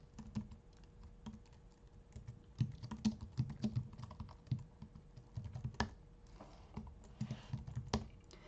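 Computer keyboard keys tapped while writing C/C++ code, a quiet, irregular patter of individual keystrokes with short pauses between bursts, close and fairly soft throughout.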